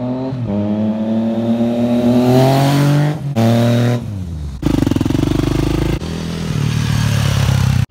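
A Yamaha FZ-09 motorcycle fitted with an M4 slip-on exhaust with the baffle removed, revving hard and loud up close, rising and dropping in several throttle blips with a deep, raspy, crackling roar.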